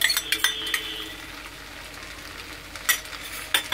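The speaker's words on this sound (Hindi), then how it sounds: "मैं इसे अच्छे से मिक्स करूंगी।" Veg chow mein with ketchup being stirred in a pan: scattered utensil scrapes and light clinks over a soft, steady sizzle, with a few sharper strokes near the start and end.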